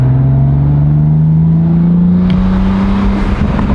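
A BMW G87 M2 engine revs up toward 3,000-4,000 RPM, a loud close exhaust drone whose pitch climbs steadily across the clip, heard from right beside the car.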